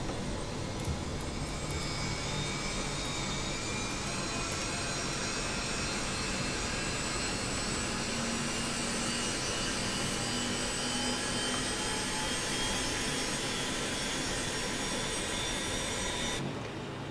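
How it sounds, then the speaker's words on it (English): Avro RJ jet engines spool up in the FS24 flight simulator, making a sustained whine and rumble that stays steady and fairly quiet throughout, with rising tonal lines and no speech. "Have a good start in engine 1, starting engine 2."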